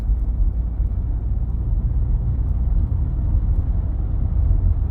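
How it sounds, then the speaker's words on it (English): A Toyota Camry with a failing transmission shudders as it shifts gears, a steady, loud low rumble heard from inside the car with no talking. "When it shifts into each gear, it starts shuddering."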